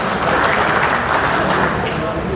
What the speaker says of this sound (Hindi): आप एक बार इनके लिए जोरदार तालियों से स्वागत करें।